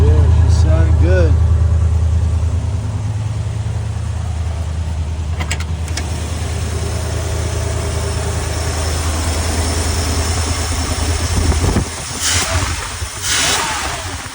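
A 1975 Ford E100 van engine idles steadily with a deep, even low rumble, running on a freshly fitted choke diaphragm; a brief voice cuts in early and some clatter and hiss rise near the end.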